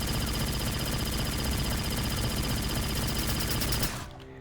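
The EVI-87 Zvezda plasma rifle in Aliens: Fireteam Elite fires a loud, dense stream of rapid shots that runs without a break for about four seconds, then cuts off abruptly.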